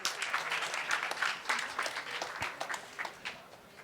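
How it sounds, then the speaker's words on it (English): An audience at the Digital Tech Summit 2024 claps for a presenting team, a dense burst of applause from a mid-sized crowd that thins out toward the end. "So please give them a warm applause up here"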